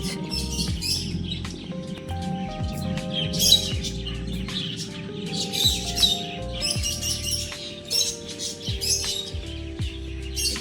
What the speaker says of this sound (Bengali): সুন্দর পাখির আওয়াজ চতুর্দিকে